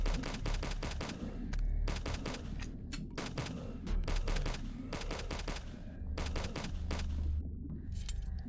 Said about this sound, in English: I'll shoot those two guys with the rocket launcher, the hand cannon, whatever you want to call it